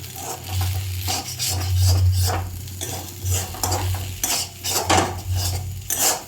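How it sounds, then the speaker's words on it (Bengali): A utensil stirs food in a metal cooking pot, producing repeated scraping and clinking strokes over a low, steady hum, loud and close with an uneven rhythm. "সব দিয়ে দিয়েছি নাড়াচাড়া করতে হবে"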